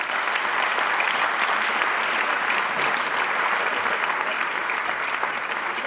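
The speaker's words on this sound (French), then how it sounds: "on peut les applaudir" An audience in a hall applauds the Massy Essonne Handball players at a mayor's New Year ceremony, with steady, dense clapping filling the whole stretch at an even level.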